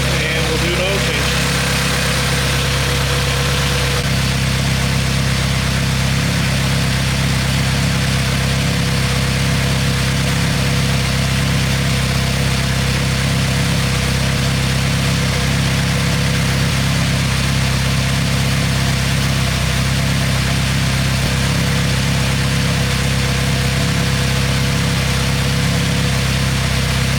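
A car with a freshly built high-compression LS-VTEC swapped engine idles on its first startup: a steady, loud, continuous engine drone with a strong low rumble that stays even and close for the whole stretch.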